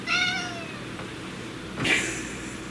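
A pet cat meows insistently to be let outside, a drawn-out plaintive meow followed after a pause by a second sharper one, close by in a quiet indoor room.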